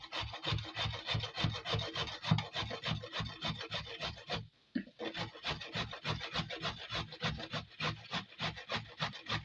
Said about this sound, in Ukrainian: Тепер беремо морквинку і на крупну терточку.